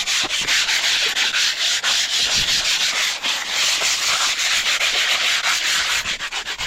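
Stiff, rapid back-and-forth scrubbing of a surface before painting, loud and close, with a steady rasping rhythm and no voices.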